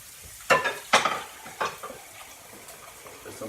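A hot iron pan is set into a kitchen sink, making three sharp metallic clanks followed by softer scraping and sizzling-like hiss that fades out.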